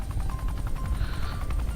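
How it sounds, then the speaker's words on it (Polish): A helicopter in the video game Bad Day in L.A. gives off a steady, loud rotor thrum with rhythmic chopping pulses, continuous throughout with no speech. "Helikopterem."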